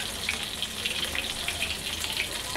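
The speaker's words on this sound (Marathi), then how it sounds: "बांगडा तळून झाल्यावरती आपण बोंबील पण असंच तळून घेऊया" Bangda mackerel fish, coated in spice masala, shallow-frying in hot oil, giving off a dense, even crackling sizzle that stays steady and close for the whole stretch.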